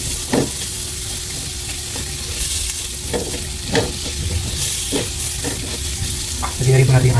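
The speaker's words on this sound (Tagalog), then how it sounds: "Lagyan na rin po yung luya." Ginger sautéing in a hot pan for sweet and spicy fish escabeche, a steady loud sizzle with repeated scraping stirs of a utensil against the pan, close up with no talking.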